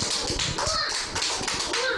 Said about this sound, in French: On applaudit très fort pour Brouel.